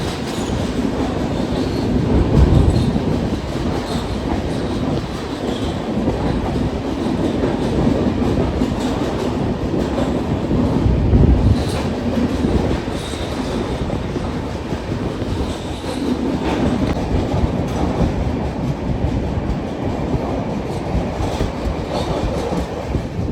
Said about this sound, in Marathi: ले ट्रेन आहे भाई